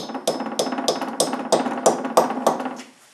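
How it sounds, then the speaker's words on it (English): A brass hammer gives about eight gentle, evenly spaced taps on a part being seated into a transfer case tail shaft, each a close, clear metallic knock with a short ring. "Gentle taps to start."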